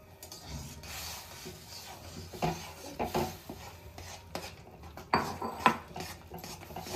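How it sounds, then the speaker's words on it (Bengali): Rice flour is stirred into boiling water in a karai on a gas flame. Faint, irregular scrapes and clinks of a utensil against the metal pan come in soft bursts, close but quiet. "এই ফুটন্ত জল থেকে খানিকটা জল আমি তুলে রেখেছি, গ্যাস থেকে নামাবো না। এই যে জলটা ফুটছে, এই অবস্থাতেই চাল গুঁড়োটাকে আমি দিয়ে নাড়তে থাকবো।"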